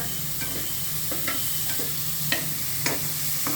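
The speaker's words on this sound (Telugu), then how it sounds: "ఇట్లా సన్నగా తరుక్కోవాలా ఉల్లిపాయలు సిమ్లో పెట్టుకుందాం కృష్ణ" Thinly sliced onions frying in a pan for a tomato and egg curry give a steady, close sizzle, with a few sharp stirring scrapes scattered across it.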